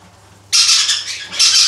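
A white-face cockatiel squawks during hand feeding, two loud harsh screeching bursts close to the microphone with a short gap between them.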